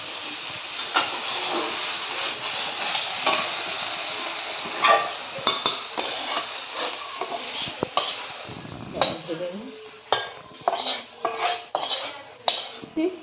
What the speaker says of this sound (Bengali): তাহলে এখন নাড়িয়ে দিই।